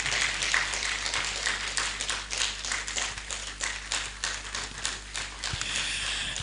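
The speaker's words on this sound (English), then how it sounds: "A round of applause, please." Audience applause at a national continuing professional education gathering, a dense, steady patter of many hands clapping close by for the whole stretch.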